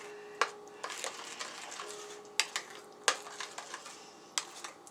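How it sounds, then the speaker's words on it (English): Homemade BBQ sauce stirred in a small bowl, with light clinks and scrapes of a utensil against the bowl, a few sharper taps standing out over a soft steady background. "Alright, just getting this all stirred up."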